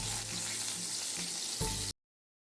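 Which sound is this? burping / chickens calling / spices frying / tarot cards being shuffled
spices frying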